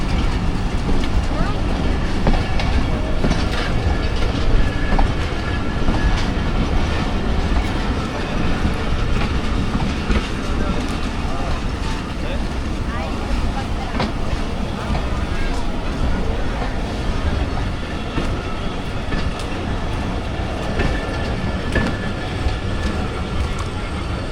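A train runs through Attock City Junction in hot weather, a steady loud rumble and rattle of wagons lasting throughout, with voices talking over it.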